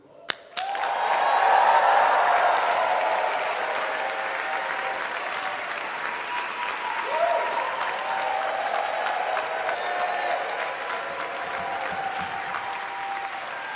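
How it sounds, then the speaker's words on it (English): Large audience at a Juilliard commencement ceremony cheering and applauding, a loud sudden wave of clapping and shouts that peaks early, then holds as a dense sustained roar of many hands in a big hall. "can we have a mighty cheer for all the family, friends, supporters in the room?"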